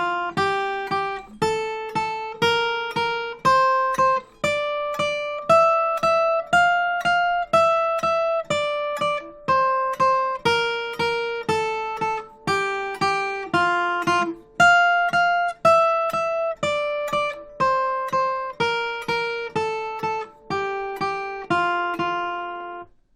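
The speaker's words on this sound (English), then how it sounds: "For each note of the scale, play 2 eighth notes with the right hand." Guitar picking a pentatonic scale in steady eighth notes, each pitch struck twice in a clean, even rhythm rising and falling across the scale, plucked notes ringing clearly with no voices.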